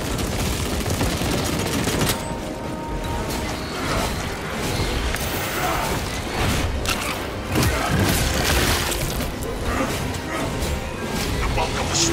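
Grenade blasts and sustained gunfire in Warhammer 40k Space Marine 2 as a swarm attacks a wall: a constant loud barrage of shots and booms with no pauses, with radio-style voices talking over it.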